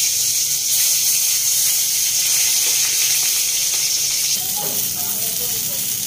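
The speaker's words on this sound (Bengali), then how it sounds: "কারণ এগুলো সবকটাই কিন্তু ডিপ ফ্রাই হচ্ছে। এরপর দিয়ে দিচ্ছে বেগুন।" Eggplant slices deep frying in oil, part of making dudh shukto, give a steady close hiss with a faint crackle that swells a little near the end.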